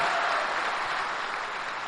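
Indoor audience at a business event clapping steadily, a dense and even wash of applause with no break.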